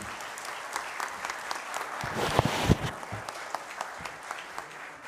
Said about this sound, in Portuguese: uma salva de palmas aí, ó, para a família